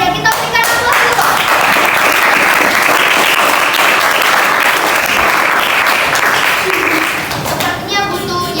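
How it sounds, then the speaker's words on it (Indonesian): Audience at a school debate bursting into sustained applause, dense steady clapping lasting several seconds before tapering off, with voices at the start and end. "kita berikan aplaus dulu"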